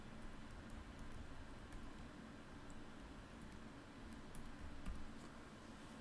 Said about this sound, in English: I'm going to go ahead and type that in manually